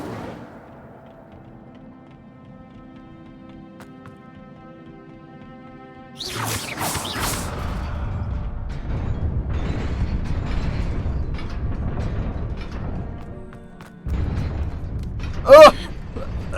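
The Incendio fire spell from Hogwarts Legacy bursts out as a sudden whooshing blast, then settles into a rolling, crackling roar that fades, with a fresh surge and a bright sharp flare near the end.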